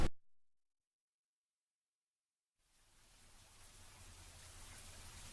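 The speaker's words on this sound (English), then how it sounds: "The sound of rain licking the branches on the side of my window was like an eternal drum roll" Steady rain falls on branches outside a window, a soft, continuous hiss of drops building gradually after a stretch of silence, moderate and even throughout with no voices.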